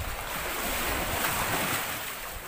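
Strong ocean waves churn and roar in a steady, loud wash at close range, mixed with gusting wind against the microphone, with no voices.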